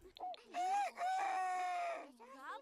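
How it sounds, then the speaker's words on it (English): A rooster crows in a medieval life-simulation video game, one long drawn-out crow rising and holding steady, fairly close and clear, with brief clucks before and after. "There's our rooster crowing."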